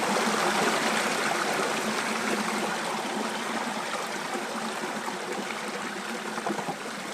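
Stream water flows through a gold-panning sluice in Switzerland, making a steady, full rushing and splashing wash that stays close and constant with only slight swells in level and no speech.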